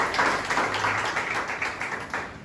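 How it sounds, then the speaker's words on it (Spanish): A church congregation claps loudly and steadily for the Lord during a Spanish-language morning devotional, a dense, continuous wash of applause that fills the whole moment. "den ese fuerte aplauso al Señor en esta mañana"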